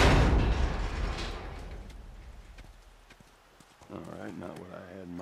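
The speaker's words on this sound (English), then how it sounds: "I'm bringing a horse along." Hooves clop on the ground with a horse in The Last of Us, a loud burst of steps that fades over a couple of seconds, followed by a brief spoken line.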